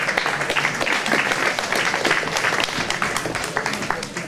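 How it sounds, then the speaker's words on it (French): Audience applause at the Miss Cristal 2012 pageant honouring Miss Meurthe-et-Moselle, a sustained, dense round of clapping from a crowd filling the hall without pause. "On peut applaudir."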